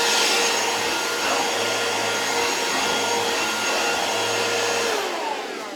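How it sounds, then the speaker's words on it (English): A vacuum sweeper runs steadily over fabric being cleaned before painting, a loud continuous motor whine with a low droning hum that holds nearly constant for about six seconds before easing slightly at the end. "we're going to sweep it, whatever sweeper you need"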